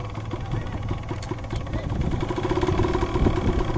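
A motorcycle engine idles steadily at close range, a low continuous throbbing hum with a slight rise in loudness toward the end and no talk over it.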